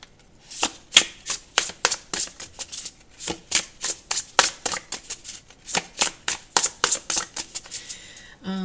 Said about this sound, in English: So I'm going to go ahead and start shuffling.